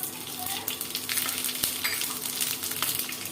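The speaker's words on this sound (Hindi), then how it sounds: "तो मिर्चे को जल जाना चाहिए, तब हम ये डालेंगे फोरन।" Panch phoron spices (fenugreek, mustard seed, nigella, ajwain and fennel) sizzle in hot oil with dried chilies in a home kitchen, a steady close crackling hiss with a sharp clink midway.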